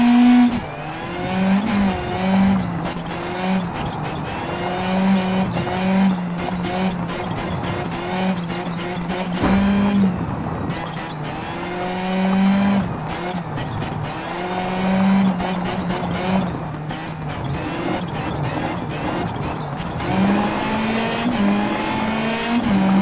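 A Hyundai i20N rally car races on a snowy Swedish rally stage, its engine revving hard through repeated gear changes with pops and bursts of acceleration, loud and close throughout.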